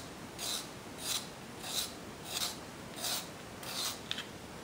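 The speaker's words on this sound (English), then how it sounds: "We'll grab my Tagal and see if I can sharpen this up." A broken colored pencil is being sharpened in a handheld sharpener, giving seven rhythmic rasping strokes at a steady pace, close and fairly quiet.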